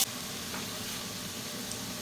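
Faint, steady sizzling of chopped onion and garlic frying in hot oil, a soft continuous crackle and hiss with no voices.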